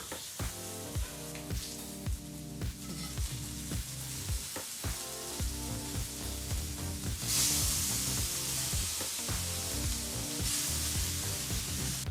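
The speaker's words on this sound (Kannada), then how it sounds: "ಮತ್ತೊಂದು ಕಡೆ ತಿರುಗಿಸಿ ಬಾಳೆಕಾಯಿನ ಫ್ರೈ ಮಾಡ್ಕೋಬೇಕೀಗ" Slices of raw banana shallow-fry in a pan with a steady, loud sizzle, punctuated by rhythmic clicks and scrapes of a spatula turning them, the hiss swelling brighter partway through; no one speaks.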